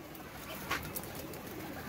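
Pigeons on a rooftop give a soft coo or two against a steady low background hiss, faint and brief with no voices.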